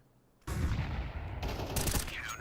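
A rapid burst of gunfire in a first-person shooter match, sharp close shots and rattling reports layered over a couple of seconds after a quiet start, no talk.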